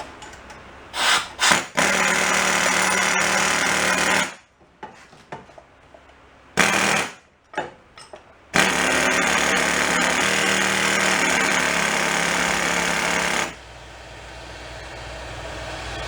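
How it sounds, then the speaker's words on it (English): A pneumatic air impact gun hammers at a go-kart wheel in loud, sustained bursts, with a couple of short blips first, then two long roaring runs separated by a pause, all close up. "How about we try a little persuasion from the backside with the little air gun."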